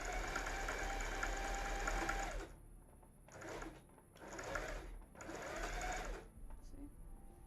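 A sewing machine stitches cosplay fabric in steady whirring runs, loud and close. It stops and restarts several times with short gaps between bursts.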